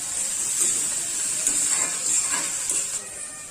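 Ginger garlic paste, curry leaves, chili and tomato sizzling in a hot pan for a Maharashtrian bhaji, a steady bright hiss with a few soft pops and crackles, close and even throughout.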